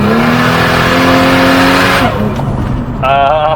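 A stock Ford Barra car with new wheels accelerates hard, its engine note climbing loud and close before easing off, with a brief high squeal near the end as the tyres test for traction.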